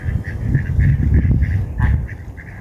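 Swans calling on the water at a nature reserve, with a series of short, nasal honking calls repeating in quick succession over a low rumble of background noise.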